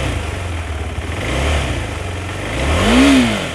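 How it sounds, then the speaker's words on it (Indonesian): A KTM 390 Adventure motorcycle engine idles and then rises in two smooth revs, the second one higher and louder, heard close up in hot daytime conditions with no talking. "Dan ini pergerakan RPM-nya. RPM seperti ini."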